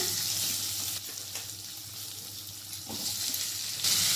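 Chopped onion frying in hot oil with mace, a bay leaf and a dried chili, a close, steady sizzle with a few stirring scrapes and a brief surge of crackle toward the end.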